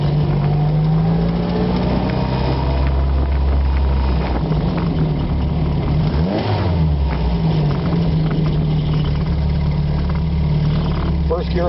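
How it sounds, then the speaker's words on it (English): Bug Eye car engine revving through downshifts from third to second gear on approach to a corner, a loud droning hum that rises and dips with shifts, under steady road and wind noise while someone talks. "As I approach the corner here, I'll downshift."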